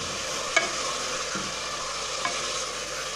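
Goat meat sizzles and fries in a pan as it is browned and stirred, a steady soft crackle with a couple of faint clinks of the stirring utensil.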